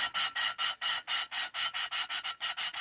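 Rhythmic rasping strokes of a valve being lapped against its seat in an aluminum small block Chevy cylinder head, about fifteen even back-and-forth grinding strokes, close and steady, with no talk.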